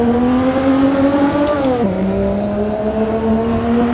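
Racing car engine in the Assetto Corsa video game on a 1929 Monaco circuit, a steady loud droning drone with a brief drop in pitch as the gear shifts, continuous throughout with no talk.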